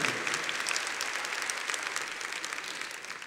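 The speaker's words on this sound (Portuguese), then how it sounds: "Uma salva de palmas para o Monsenhor Jonas." Congregation applause at a Catholic prayer gathering, a fairly faint but steady patter of many hands clapping together that tapers off slightly toward the end.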